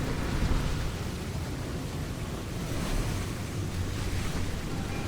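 A broad, steady rush of water swells in the Baldur's Gate 3 video game, a dense surf-like wash that keeps going at an even loudness with no voices over it.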